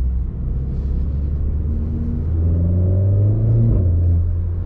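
Stock Renault Sport car engine revving, a loud, close low rumble that climbs in pitch and holds, with crowds from a nearby rugby match in the area.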